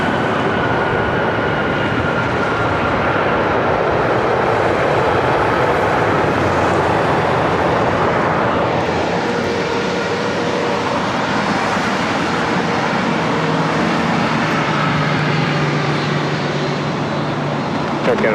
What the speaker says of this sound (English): This is Air Canada 556 coming in from Vancouver on a MAX 8.